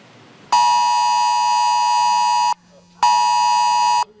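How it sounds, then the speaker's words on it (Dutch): A Dutch NL-Alert emergency test tone sounds from a mobile phone at noon: two loud, harsh electronic buzzing tones, the first about two seconds long, then a short pause and a second, shorter burst. "Wanneer je telefoon is ingesteld voor noodmeldingen, maakte die om 12 uur vanmiddag dit geluid."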